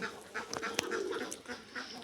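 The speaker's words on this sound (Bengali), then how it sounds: "এখানে আছে একশো সতেরো আঠারোটা হাঁস আছে এখানে" Ducks on a farm flock of about a hundred and eighteen birds, seven to eight months old, quack in repeated short calls, moderately loud and close, with no talk over them.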